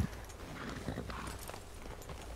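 Horse hooves clip-clop at a walking pace in the Red Dead Online video game, a steady, soft rhythm under a busy, murmuring game soundscape with no voices speaking over it.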